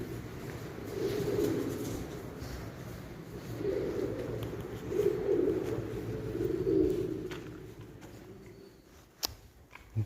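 Pigeons coo in repeated soft low phrases inside a large, echoing abandoned factory, fairly close and alone, with a few faint knocks near the end.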